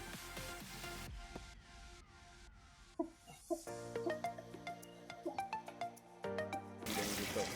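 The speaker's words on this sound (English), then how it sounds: "So as you can see, the water is easily coming out of this." Water trickles and splashes out of a valve pipe on a backyard square catfish tank, with clinks and drips over a faint running flow.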